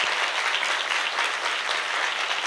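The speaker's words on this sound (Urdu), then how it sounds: "آئیں ایک دفعہ پاک روح کے لیے ہم زوردار تالیاں بجائیں" A church congregation claps loudly and continuously for the Holy Spirit, a dense, even wash of applause that holds steady throughout.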